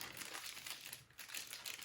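A small plastic bag holding 2 to 8 centimeter felt slingshot targets crinkles faintly and close by, a brief continuous rustle of handling with no talk.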